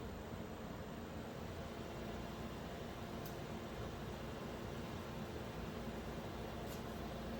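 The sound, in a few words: cooling fans of a KS0 Ultra Kaspa miner at max speed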